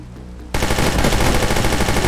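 Rapid automatic gunfire from a Minecraft zombie-apocalypse game on a train bursts in loudly after a quiet half-second and continues as a dense, unbroken rattling volley to the end.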